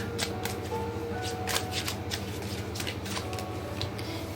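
Tarot cards are shuffled and drawn, giving a run of soft riffling flicks and crisp snaps close up, with a low steady hum underneath.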